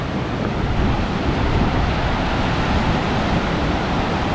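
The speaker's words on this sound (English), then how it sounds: "there you go. Hermit Rapids." Hermit Rapids roar as a loud, steady broadband rush of churning river water, continuous and close, with some wind buffeting the microphone and no talking.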